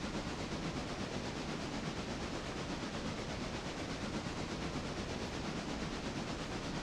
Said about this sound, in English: we're gonna have to watch that passenger train as it gets closer to this one.